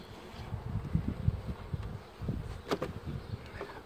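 Honeybees buzzing around an opened hive in an apiary, a faint, uneven hum with scattered close passes and light rustling, no talk.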